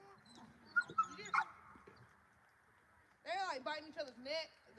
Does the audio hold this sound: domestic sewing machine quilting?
no